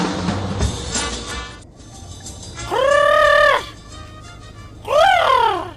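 Two loud, harmonic chicken calls rise and fall in pitch, one in the middle and one near the end, over a low background rumble.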